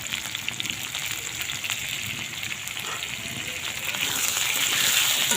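Potatoes seasoned with salt and turmeric fry in hot oil with a continuous bubbling sizzle that swells louder toward the end, close and unbroken.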